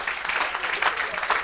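Church congregation applauding during a gospel service, a short burst of dense clapping from many hands that swells in waves and keeps going throughout.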